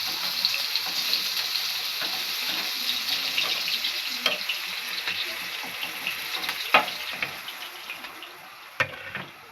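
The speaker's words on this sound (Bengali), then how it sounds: "মাছটা হালকা করে ভাজতে হয়, বেশি ভাজবো না মাছটা।" Thin Shankar fish frying lightly in a pan, a steady bright sizzle and crackle with occasional sharp pops and spatters, close and continuous, easing slightly toward the end.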